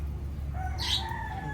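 Pet chickens at home give a single rooster-like crow or call partway through, fairly faint, over a steady low hum of background noise, with no voices.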